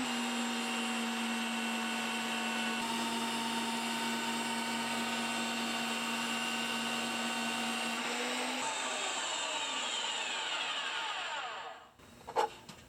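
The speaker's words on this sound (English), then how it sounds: "we just fire it up and thread the bolts. It's pretty noisy." A threading machine cuts threads on bolts with a 7/8 die, giving a loud, steady high whine with strong tonal hum that runs for about eleven seconds, then winds down as it shuts off, followed by a metallic clank.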